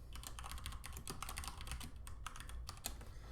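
Steady typing on a computer keyboard, a quick, even stream of close key clicks with no voices, fairly quiet.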